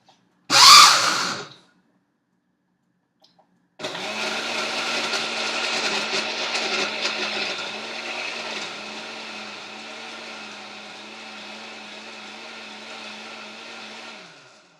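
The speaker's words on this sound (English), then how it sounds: "put it on the blender. Earmuffs, because this is loud" A brief loud clatter, a pause, then a blender whirs at high speed blending a Shakeology shake for about ten seconds, steady and close, before winding down.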